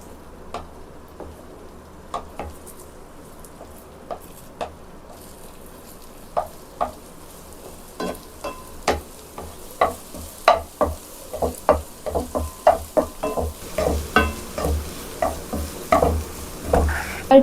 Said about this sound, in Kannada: ಎಣ್ಣೆ ಕಾದ ನಂತರ ಬೀಟ್ ಮಾಡಿಕೊಂಡಿರುವಂಥ ಮೊಟ್ಟೆಯನ್ನು ಇದಕ್ಕೆ ಸೇರಿಸಿ.